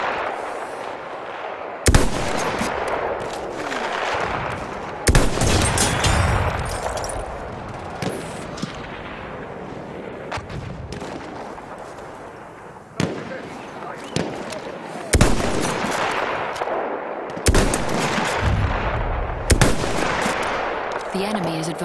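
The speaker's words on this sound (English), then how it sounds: "The enemies are being halted by our artillery barrage." An artillery barrage and gunfire in the online multiplayer shooter Battlefield 1, Rush mode: repeated heavy booming blasts and sharp gunshots with rumbling decays across the whole stretch, loud and close, with some in-game voices in between.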